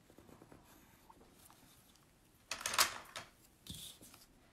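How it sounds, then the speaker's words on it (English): Colored pencil scratching and rubbing across watercolor lettering on paper, quiet and close, with a brief louder burst of strokes midway and a few lighter passes after it. "Now we're doing colored pencil."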